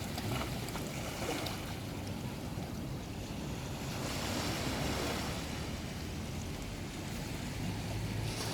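Ocean waves roll in at Wollongong Beach in the early evening as a steady, moderately loud wash of surf. Wind buffets the microphone throughout, and no one speaks.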